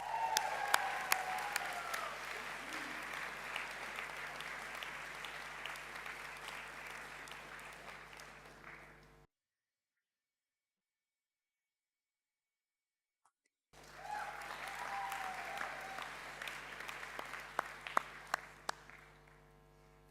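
Audience applause at a graduation ceremony for academic prize recipients, a steady wash of clapping that breaks off into a few seconds of silence, then resumes and builds again with sharper close claps.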